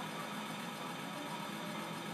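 A motorboat engine in GTA IV drones steadily at a constant idle-like rumble, with no talk over it.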